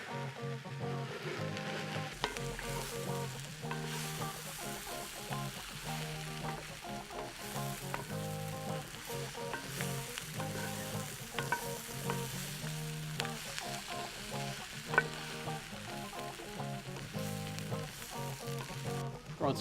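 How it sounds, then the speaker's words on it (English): Corned beef hash with cubed potatoes and corned beef sizzles steadily in a cast iron skillet while a utensil stirs it, leaving repeated scraping strokes over the constant frying crackle, up close and without talk. "Let's give it a quick stir."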